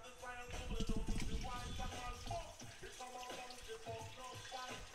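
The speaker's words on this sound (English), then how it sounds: "I'm gonna pour the overage from that oil" Leftover frying oil from cooking red snapper poured into a Le Creuset pot, a close liquid splashing and trickling that surges early then tapers into intermittent drips.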